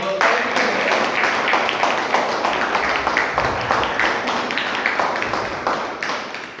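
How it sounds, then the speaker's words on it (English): A Toastmasters club audience at the first meeting of 2026 gives a round of applause, with steady, dense clapping from a roomful of people that fades slightly toward the end. "So let's have a big round of applause."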